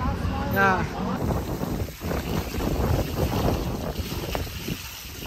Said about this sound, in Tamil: இப்படி உசு உசுன்னு காற்று அடிக்கிறத பார்த்துட்டு